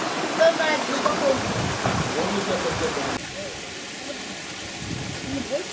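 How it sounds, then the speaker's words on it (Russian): A small mountain waterfall near Panagia lake in Zelenogorye, Crimea, gives a steady broadband rush of falling water, fairly close and continuous, with faint voices and a drop to a quieter, smoother wash partway through. "Маленький водопадик."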